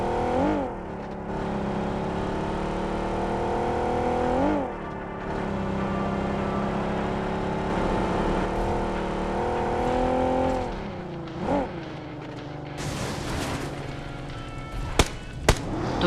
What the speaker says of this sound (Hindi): तो इसी कारण मैं यहाँ पे बग्गी कार ले लेता